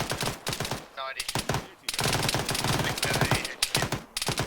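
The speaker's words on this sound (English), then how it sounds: "They're being shot at from the tower." Rapid bursts of automatic gunfire in the military shooter Arma 3, crackling loud and close in dense repeated volleys with only brief gaps, including a short pause before the shooting resumes.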